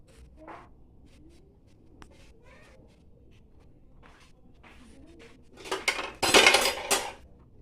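Pav bhaji is served onto a plate, with light scattered clinks of utensils before a louder burst of dish and cutlery clatter near the end, close by and without speech.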